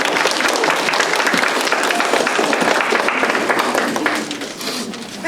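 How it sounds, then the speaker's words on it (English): Audience applause at a community report center event, dense and steady clapping filling the room for about four seconds before thinning out toward the end. "Let's give them some applause"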